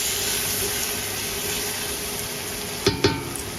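Biryani masala with mashed tomatoes being stirred in a pot, a steady soft sizzling hiss broken by two quick sharp scrapes or knocks near the end, no speech.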